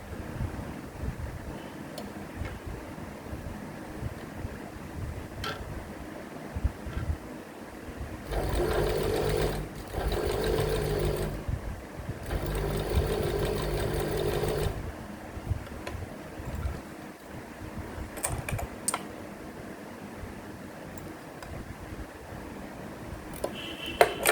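Sewing machine stitching lace onto a round neckline, running in one steady loud burst of a few seconds midway, with quieter handling and room noise before and after.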